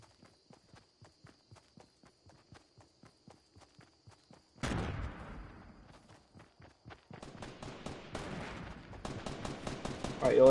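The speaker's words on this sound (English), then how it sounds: "I hear some gunfire over here." Fortnite solo match with rapid rhythmic footsteps, then sharp bursts of gunfire and repeated shots of varying distance, growing louder toward the end, with no talking.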